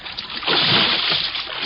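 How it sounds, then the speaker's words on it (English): A person plunges into an icy river, one brief splash and churn of water that swells and then settles into sloshing. "I ran to the rail and vaulted over into the icy river."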